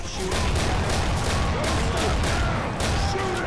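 Dense, continuous gunfire in Left 4 Dead 2, loud bursts of automatic shots rattling together with booming impacts, filling the whole moment.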